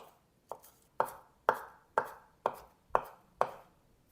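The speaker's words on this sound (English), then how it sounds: "we also need some fresh parsley. We're going to chop it up, get it ready for the end" A knife chops fresh parsley on a cutting board in eight steady, evenly spaced thuds about half a second apart. The chopping is close and fairly quiet, with no talking.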